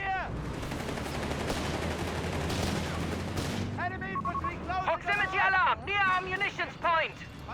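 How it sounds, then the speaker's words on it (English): Bazooka fire and explosions in Company of Heroes 3 strike a 250 halftrack amid dense battle noise, with sustained gunfire and blasts for several seconds before a voice speaks over it. "Bazooka fire there on the 250 doing a bit of damage."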